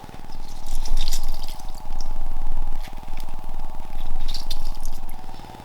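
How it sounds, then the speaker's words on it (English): Limes squeezed by hand in a kitchen, giving soft wet squishes and dripping juice, close and fairly quiet with a few louder splashy moments. "help you squeeze out all the juices of the limes"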